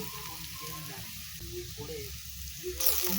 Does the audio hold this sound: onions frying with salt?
yes